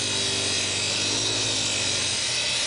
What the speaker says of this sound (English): This is the tool I use to do my rough sanding. It's basically a bench grinder, modified